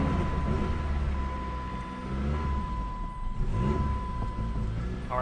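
A stalling Jeep engine idles roughly while the throttle keeps it running, a steady low rumble that dips and surges slightly as it labours to stay alive, close and continuous with no talk.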